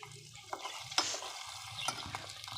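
Mixed vegetables are stirred in a frying pan, soft scraping and clinking of a spoon over a faint sizzle, with a couple of sharper metal taps, quiet and close.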